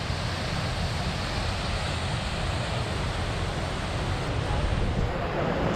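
Large ocean waves breaking continuously at a beach spot in Agno, Pangasinan, a steady roaring wash of surf mixed with wind noise, loud and unbroken throughout with no voices.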